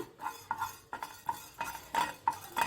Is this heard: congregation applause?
no